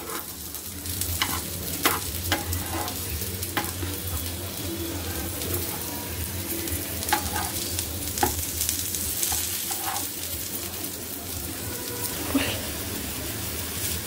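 Stuffed okra (bhindi) frying in a pan as the pieces are gently turned, a continuous sizzle broken by sharp scraping and tapping from the spatula, with faint voices in the background.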